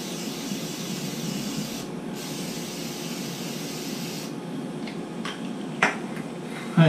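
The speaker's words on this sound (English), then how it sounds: "Nice little spray of olive oil." Olive oil hisses out of a spray bottle in a home kitchen in a long continuous spray for several seconds, close and fairly quiet, followed by a few soft clicks and handling sounds; no talking.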